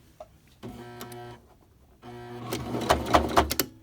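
Sewing machine stitching the seam of a Christmas stocking at a half-inch allowance, running in two motor bursts with a short pause between. The second run is louder, with sharp ticking near its end.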